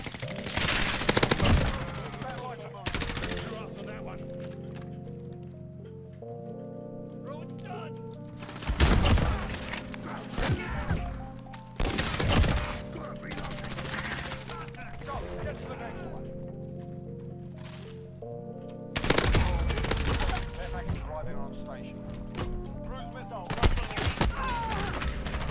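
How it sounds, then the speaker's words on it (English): M4A1 rifle gunfire in Call of Duty: Modern Warfare, loud sharp bursts of automatic fire repeating at intervals over a steady game background hum, with a voice talking in places. "You like my M4, Browski?"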